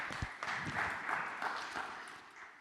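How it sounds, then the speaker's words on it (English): An audience applauds after a talk on proof-of-personhood through in-person gatherings, a moderate wash of clapping that holds steady and then slowly thins out, with no voices over it. "let's give a round of applause"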